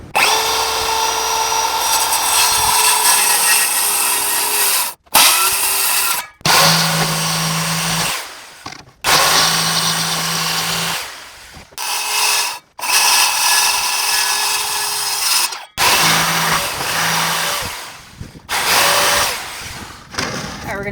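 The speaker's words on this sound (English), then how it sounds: "We're gonna go ahead and cut this piece with our circular saw" Circular saw cutting a wood piece for a built-in bench, loud close bursts of whining blade and chewing cut in several passes separated by short pauses.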